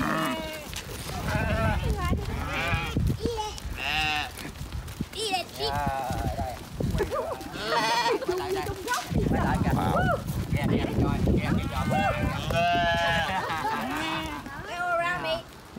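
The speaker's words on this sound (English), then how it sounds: "is getting attacked by sheep" Sheep in Da Lat, Vietnam, bleating repeatedly and loudly at close range as they follow a visitor, with several overlapping calls and people talking throughout.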